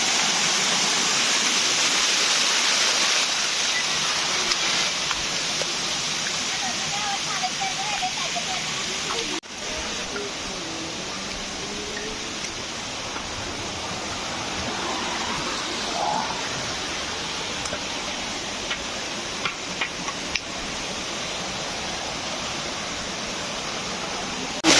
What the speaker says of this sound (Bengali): মিঠাই ছড়ি ঝর্ণায় চলে আসছি আমরা।